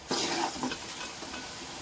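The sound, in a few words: garlic and asafoetida frying in oil for tomato pickle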